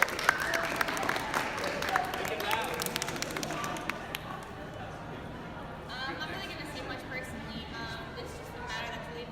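An outdoor crowd at a campus speakout and petition rally claps to welcome a speaker to the stage, a burst of applause that thins out, with voices talking throughout.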